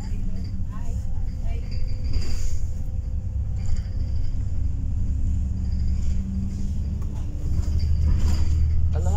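A VDL DB300 Wright Pulsar Gemini 2 double-decker bus of Arriva Northumbria on route 58 gives a steady low engine rumble and road drone heard from inside, with some interior rattles and a voice talking over it.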